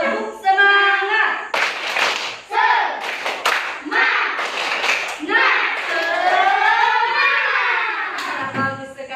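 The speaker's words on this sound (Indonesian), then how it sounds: "Nah, kita akan tepuk semangat ya." Schoolchildren in an elementary classroom perform a rhythmic spirit clap, a series of loud claps broken up by group chanting and a teacher's voice, all close and lively.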